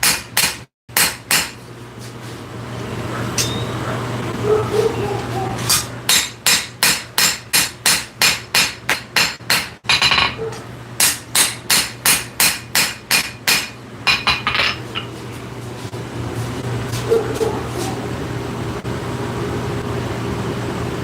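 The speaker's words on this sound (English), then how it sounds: "what I'm primarily doing is planishing and refining" A forged blade being planished and refined under a hammer in a forge workshop: long runs of steady, evenly spaced metallic blows ring out loud and close, with brief pauses between the series and a low background hum.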